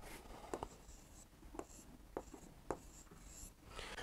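Urdu letters being written by hand in a quiet room, a series of separate soft scratchy pen strokes spaced irregularly, faint and close with no talking.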